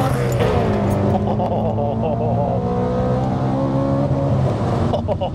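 A 680 bhp supercharged BMW E92 M3 with a manual gearbox accelerating: a loud, steady engine drone heard from nearby, with rising harmonic whine layered over a rough low rumble throughout.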